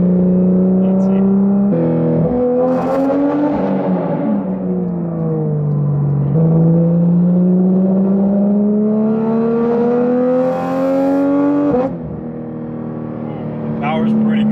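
A Porsche 992 GT3 engine revs up through the gears while merging onto a highway, a loud, close, rising drone that climbs in pitch, drops at each shift and climbs again.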